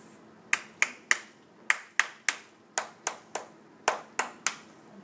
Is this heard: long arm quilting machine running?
no